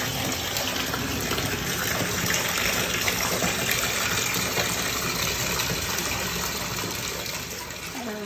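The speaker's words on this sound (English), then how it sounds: "Next, we're gonna rinse it out." A tie-dyed T-shirt is rinsed under running water, a loud, steady gushing stream that flows without a break the whole time, with no voices.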